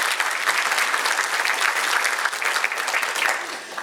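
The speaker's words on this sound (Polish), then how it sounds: "Prosimy o klaski" Audience applause fills the hall at the opening of a film festival in Ostrów Wielkopolski, a dense, steady wash of many hands clapping close and loud throughout, with no talking over it.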